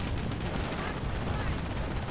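Sustained MG42 machine gun and rifle fire in Company of Heroes, a dense, continuous battle roar with no clear separate shots, steady and loud throughout.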